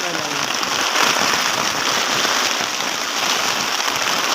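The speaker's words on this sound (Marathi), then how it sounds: "बाहेरचा पाऊस दाखवतो मी" Heavy monsoon rain pours outside over soybean fields in Maharashtra, a loud, dense, continuous hiss that holds steady throughout without pause.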